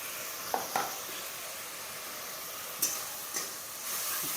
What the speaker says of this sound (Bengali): এবার আমি মশলাটাকে ভালোভাবে কষিয়ে নেব।